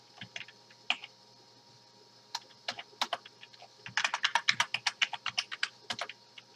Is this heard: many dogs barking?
no